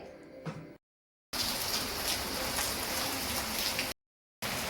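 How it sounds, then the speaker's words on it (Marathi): Heavy rain pours steadily as a loud, dense hiss, broken by two brief silent gaps; a faint murmur of sound precedes it. "खूप सारा पाऊस जोरात पाऊस येतो आहे"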